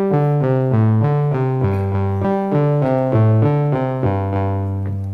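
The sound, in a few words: Q119 sequencer running a sequence off the first row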